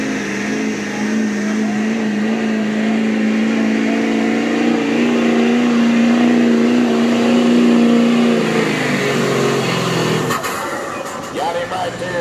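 Chevrolet diesel truck at a diesel truck and tractor pull showdown, its engine roaring loudly at high sustained revs for several seconds before dropping off, with a crowd and announcer's voice over the top.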